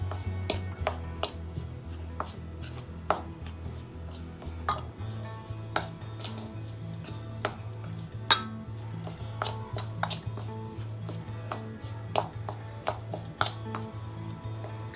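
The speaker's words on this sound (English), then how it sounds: "So mix all these ingredients together with a spoon." A spoon stirs red chili, dhania and jeera powders together in a container, giving repeated sharp taps and scrapes in an irregular rhythm, close by and alone with no voices.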